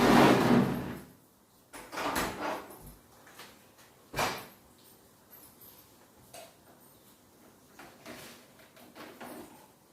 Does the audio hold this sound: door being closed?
yes